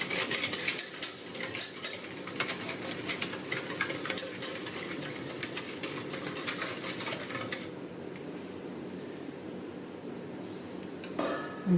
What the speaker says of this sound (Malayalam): നമുക്ക് മിക്സ് ചെയ്തിട്ട് ഒന്ന് നോക്കാം